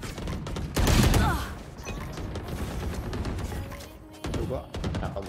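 Gunfire in the shooter game Valorant, with a loud burst of shots near the start followed by rapid, sharp shot clatter through the rest and a second burst near the end, under a talking voice.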